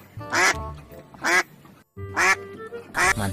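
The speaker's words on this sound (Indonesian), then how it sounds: "Kita dapat angsa." A goose in a video game gives four loud, close honking calls in an uneven rhythm, separated by short silences.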